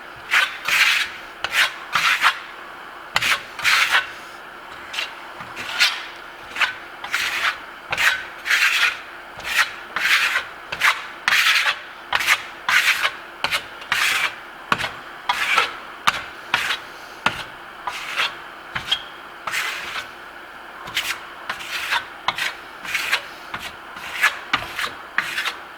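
A steel trowel scrapes grasello Venetian plaster, a Milan gold finish, across a wall in repeated wet-to-dry strokes, pulling down and out; rhythmic raspy swipes, close and steady, with no talking.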